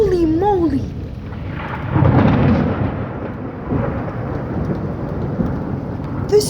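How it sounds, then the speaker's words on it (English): A heavy thunderstorm in Michigan pours rain steadily while a loud thunder rumble swells through the middle, close and powerful; a brief high vocal sound opens the clip and the downpour continues throughout. "That was the loudest, scariest thunder I've ever heard"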